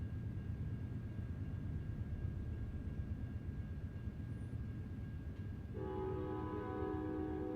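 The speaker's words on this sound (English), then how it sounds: "There's a loud train." A passing train in American Truck Simulator at night: a steady low rumble rolls on throughout, then a sustained horn blast sounds loudly near the end.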